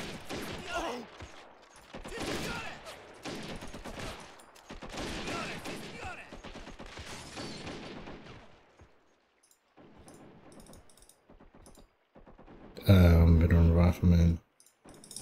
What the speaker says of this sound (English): Some single rifles, I think.